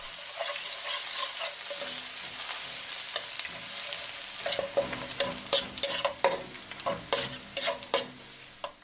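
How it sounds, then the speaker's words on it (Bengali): Chopped onions and cardamom fry in hot oil, a steady soft sizzle joined by sharp clinks and scrapes of a spoon stirring against the pan that grow busier and louder toward the end. "10 সেকেন্ড পর আমরা পেঁয়াজ কুচি দিয়ে পেঁয়াজে কালার হওয়া পর্যন্ত ভাজতে থাকব।"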